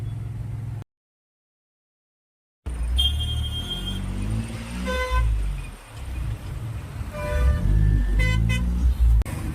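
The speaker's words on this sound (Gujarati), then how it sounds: "ફૂલ ટ્રાફિક થઈ ગયું જુઓ તમે." Dense road traffic at night, engines rumbling close by with repeated short and sustained car horn honks from several vehicles, loud and near, after a brief gap of silence.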